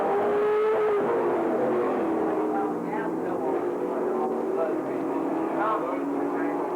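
Late model race cars roar around a track during a late model B feature, a steady, loud, droning engine rumble throughout with a track announcer talking over it.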